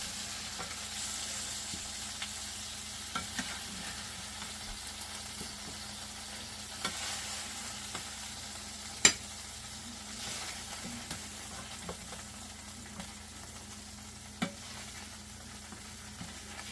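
Scallops frying in a pan, a soft continuous sizzle with scattered small pops and crackles, fairly faint throughout.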